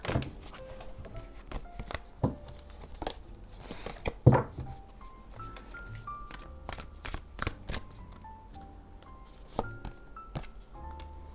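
Whisper of Love Oracle cards being shuffled close up, a steady run of riffling flutters and soft taps with one louder burst partway through.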